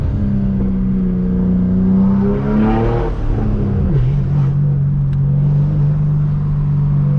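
A heavily modified BMW M4 G82 idles with a deep steady engine drone, then revs up and settles again with turbo whooshing and a brief sharp pop, loud and close, with no one talking.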